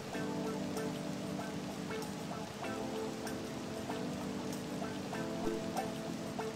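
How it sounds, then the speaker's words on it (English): Rain falling in Persona 5 Royal, a soft steady patter with occasional drips over a quiet, faint background. "It's raining!"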